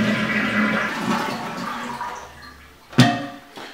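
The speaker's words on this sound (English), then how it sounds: "Then you want to drain down the water that's in the tank simply by flushing." A household toilet flushes as its tank drains, a close gurgling rush of water that fades, followed by a sharp clunk near the end.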